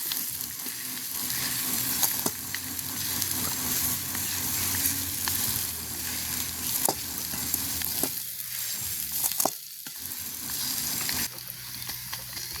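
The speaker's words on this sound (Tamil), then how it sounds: "இதை நல்ல வடிவாக இந்த அகப்பையாலே நாங்கள் அப்படியே மசிப்போம்" Curry for egg rolls is mashed and stirred with a ladle in a sizzling pot in a village kitchen, a steady loud frying hiss with repeated scraping strokes and no talk.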